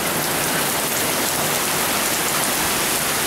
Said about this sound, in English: We're getting hammered by this big rain front.